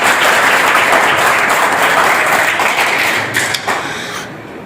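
Audience applause at a Hindi poetry recital, dense steady clapping from a crowd that thins and tapers off toward the end.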